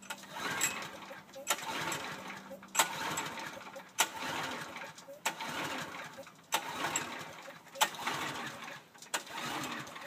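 A Brave log splitter's small engine is cranked over and over without starting, each pull giving a sharp thump followed by a brief whirring turnover in a regular rhythm, with birds faintly in the background.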